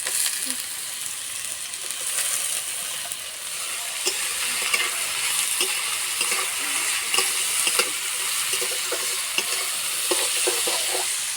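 Chopped potato and carrot pieces fry in a pan with a constant sizzle, punctuated by repeated scraping and clinking of a spatula stirring them.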